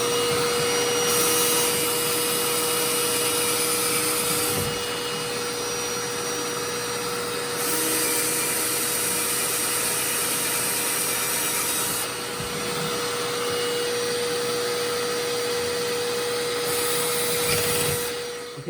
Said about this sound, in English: So on goes the vacuum cleaner.